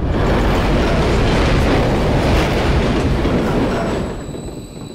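Trains rumbling past in a London level of the Call of Duty video game, a loud, steady roar with a rattling clatter that holds for several seconds, then eases and fades at the end.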